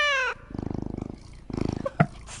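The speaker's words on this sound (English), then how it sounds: "It's gotta be real cat purring, right?" A cat in the video game DC Universe Online purrs in two rhythmic bursts of close, soft pulsing, after a short meow-like tone at the start.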